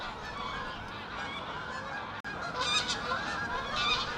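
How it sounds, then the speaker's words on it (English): Many geese honk together in a continuous, overlapping chorus, moderately distant, with no voices. "Sounds like we've got a few geese incoming."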